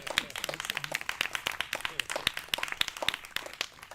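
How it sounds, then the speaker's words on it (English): An audience at an outdoor summer music event in a shed claps in scattered, uneven bursts for a few seconds while voices carry through the crowd. "So if you could just give him an applause again."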